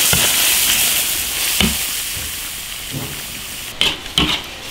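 Beef stir-fried with chili in an iron wok, a steady loud sizzle with a few sharp clanks of the spatula against the metal near the end.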